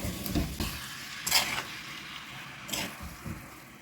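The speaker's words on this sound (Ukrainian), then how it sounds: "Все перемішуємо гарненько." Meat and onions, about 700 g of meat to 400 g of onion, stirred together in a pan with a soft steady sizzle, punctuated by a few louder scraping strokes near the start and middle.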